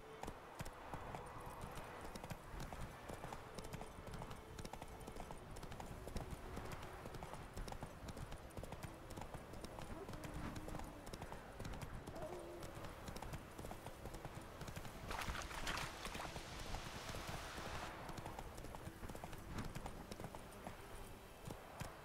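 Roach, a horse in the video game The Witcher 3, gallops steadily with continuous clip-clopping hooves throughout, over a busy game background with no speech.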